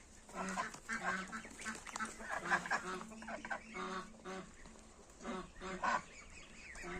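Muscovy ducks and ducklings of a heavy German line call on a farmyard, with soft repeated hissing and honking notes in uneven bursts, fairly faint and close by.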